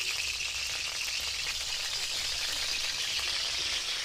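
Bay leaf and dry red chilli fry in hot oil in a wok, a steady loud sizzle with faint stirring rattles throughout.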